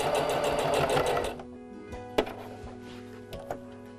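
A sewing machine stitches fabric for a DIY face mask, running in a fast, steady mechanical whir for over a second before stopping, followed by faint clicks and handling taps.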